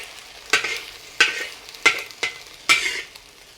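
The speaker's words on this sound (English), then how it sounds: "You fry them until they look like this, semi-solidified, then we push them one side." Eggs scrambling in a hot pan for nasi goreng hiss softly while a spatula scrapes across the pan in four separate, evenly spaced strokes, with no talk.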